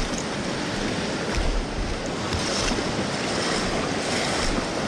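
Rawa Khola in Khotang rushes in a broad, steady roar of turbulent water, loud and close, with wind buffeting the microphone and no voices.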